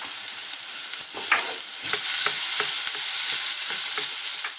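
Chopped onions fry in a pan with a bright, continuous sizzle, broken by repeated scraping stir strokes that come in a loose rhythm, close and fairly loud with no talking.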